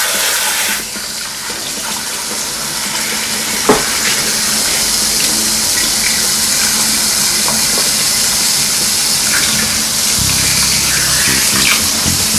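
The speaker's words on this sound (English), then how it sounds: "So I'll go ahead and add enough water." Tap water gushes steadily into a cooking pot for boiling yam in a Ghanaian home kitchen, a continuous loud pouring rush with a brief clunk partway through and no talking.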